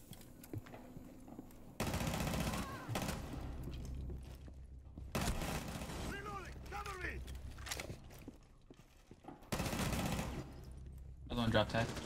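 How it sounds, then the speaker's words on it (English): Gunshots and rattling automatic fire in a ranked online shooter match come in short bursts amid mechanical clicks and creaks, with a player talking over the action. "A shot."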